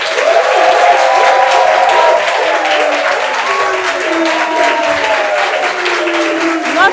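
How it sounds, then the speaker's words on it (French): An audience applauds a guest being introduced on a televised talk show, with steady, loud clapping running the whole length, partly overlapped by a host's voice. "Applaudissements pour elle."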